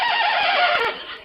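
A horse gives a single loud, close whinny that wavers downward over about a second, with faint hoof clops at the edges, heard alone with no talk.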